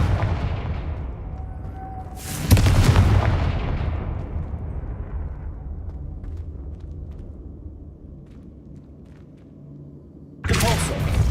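Two powerful blasts from the Confringo spell in Hogwarts Legacy, each a sudden booming explosion with a long rumbling decay, spaced about eight seconds apart.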